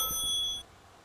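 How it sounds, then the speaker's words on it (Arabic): Phone ringing on a call-in prize show, a short bright electronic ring with steady high tones lasting about half a second before cutting off, fairly clear with no talk. "عم بيرن."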